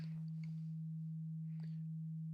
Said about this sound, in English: I can demonstrate it using this sine wave.